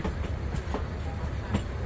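The Subarna Express train departs Chittagong, rolling along with a steady low rumble and rhythmic wheel clacks, heard close up from on board.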